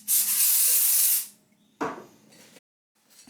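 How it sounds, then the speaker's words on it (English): Electrical contact cleaner degreaser sprayed from an aerosol can onto metal table parts: a loud, steady hiss lasting about a second, then a shorter, softer second burst, with no talk. "All I've used is just some contact cleaner, electrical contact cleaner."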